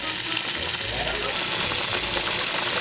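Bacon sizzles and spatters in a frying pan, a loud, steady crackling hiss that fills the whole moment, with a faint low rumble underneath.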